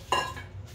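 Dirty dishes and utensils set down in a home kitchen while making almond crackers: one clear clattering clink up close, followed by a softer knock, with no one talking.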